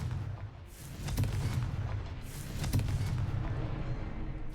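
A Confringo fire spell in Hogwarts Legacy goes off as a pair of deep booming blasts about a second and a half apart, each followed by a rumbling tail, moderately loud with no talk.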